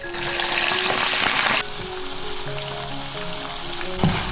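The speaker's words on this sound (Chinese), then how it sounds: "放到油锅里炸到酥脆" Starch-coated shrimp heads deep-fry in hot oil with a loud, dense sizzling crackle up close, easing to a softer steady bubbling with faint clinks partway through.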